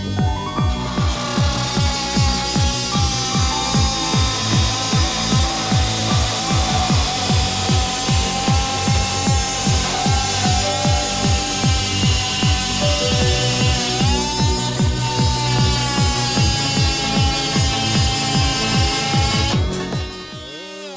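A multi-tool fitted with a metal-cutting blade saws through a steel pipe, giving a loud, steady buzzing drone with a rapid vibrating pulse throughout that drops off abruptly at the end.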